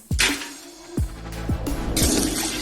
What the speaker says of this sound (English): Fill up a cup of water.